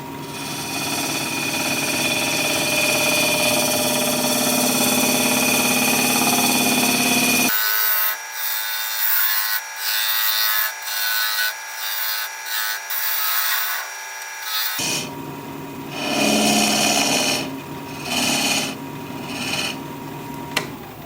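A wood lathe turns a wooden flower at a slow speed of about 1,000 RPM. A loud, steady rasping cut drops away to quieter scraping and rubbing, then picks up again.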